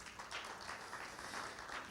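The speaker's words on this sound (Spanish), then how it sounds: "Denle un aplauso a Jesucristo" Church congregation clapping in a brief, faint burst of steady applause, soft and somewhat distant throughout.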